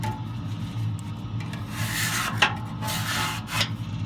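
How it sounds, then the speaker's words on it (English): A metal scraper rasps ash off the parts of a Harman P68 pellet stove. The strokes are close, steady and rough, with a few sharper scrapes and no talk. "Scrape them all down like that."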